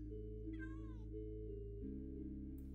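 A single short meow from a cat in Minecraft, clear and rising then falling, set against a steady low ambient hum with a brief bright chime near the end.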